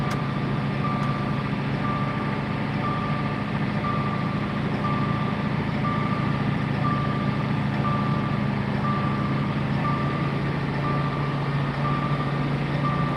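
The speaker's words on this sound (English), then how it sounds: "sometimes that seatbelt noise can really get you" A car's seatbelt warning chime beeps in a steady repeating pattern over a constant engine drone inside the cabin of a car fitted with a Cobb intercooler during testing.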